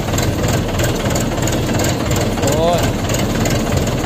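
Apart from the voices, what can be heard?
tractor engine running with tiller attached, ploughing field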